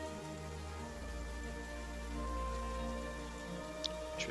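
Steady rain ambience for an online Dungeons & Dragons tabletop session, a continuous soft wash of falling rain with a couple of brief drip-like ticks near the end, no voices.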